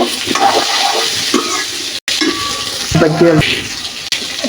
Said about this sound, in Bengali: এগুলি দিয়ে দিচ্ছি নাড়াচাড়া করে দিব